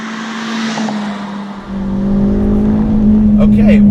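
A Hyundai Veloster Turbo R-Spec engine revs hard in seventh gear and keeps bouncing off the rev limiter, a loud steady drone inside the cabin that builds in the second half.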